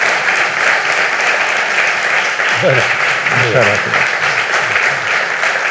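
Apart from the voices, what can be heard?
audience applause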